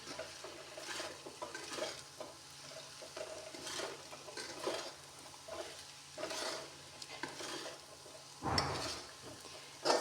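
Chunks of arbi (taro root) fry and sizzle steadily in a pan, a soft continuous crackle with occasional stirring scrapes and a louder clatter near the end, no voices.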